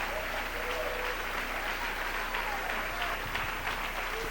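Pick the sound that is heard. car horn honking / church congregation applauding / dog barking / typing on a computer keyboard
church congregation applauding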